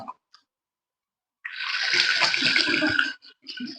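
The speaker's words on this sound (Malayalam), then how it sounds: "ഇതൊന്നും കൂടെ നമ്മളൊക്കെ കഴുകി വൃത്തിയാക്കിയിട്ടേ പീസാക്കാം" Tap water runs and splashes for about two seconds while taro stalks are washed in a kitchen, after a near-silent start and followed by brief handling noise.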